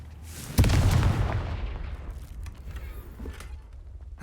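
A Confringo fire spell detonates in Hogwarts Legacy as one sudden loud explosive boom, followed by a rumbling decay that fades over a few seconds.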